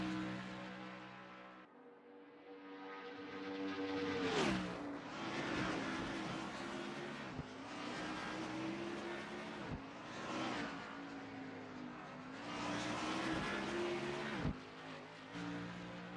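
Race cars in a Le Mans racing video game, including a Garage 56 Chevy, roar down the long straight: loud sustained engine drones rising in pitch, with several cars sweeping past in quick succession and no talk.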